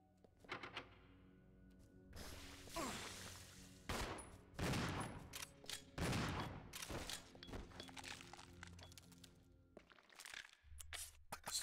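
Two shotgun blasts in Resident Evil Zero HD ring out amid heavy, echoing game combat noise, with repeated loud booming bursts across several seconds before a brief quiet drop near the end.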